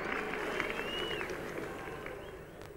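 Crowd applause at a Headingley Test match, a steady wash of clapping from a large distant crowd, sustained throughout with faint voices mixed in.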